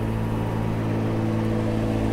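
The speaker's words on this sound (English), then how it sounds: "Passing truck a little bit." A truck rolls past outdoors, a steady droning low rumble of engine and road noise that holds throughout, with no voices over it.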